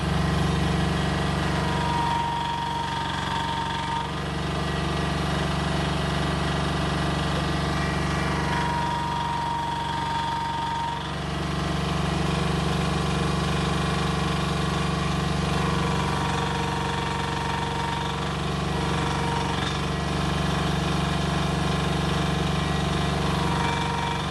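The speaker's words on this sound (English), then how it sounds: "Let's turn the hydraulics on." A mini excavator engine runs steadily with the hydraulics switched on, a loud continuous idling drone with a faint intermittent whine rising over it now and then, close by and with no talking.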